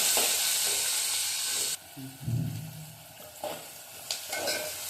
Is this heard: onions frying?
yes